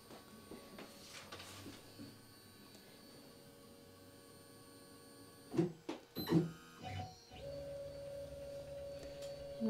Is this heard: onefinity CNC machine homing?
yes